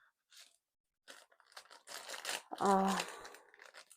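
A paper package from a bead embroidery kit of Christmas ornaments is torn and crumpled open close by, giving short crinkling and tearing bursts with a louder rip near the end.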